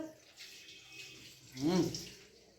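Tap water running briefly as hands are washed after a home meal, a soft hiss that swells into a closer splashing gush near the end. It is faint, with household sounds around it.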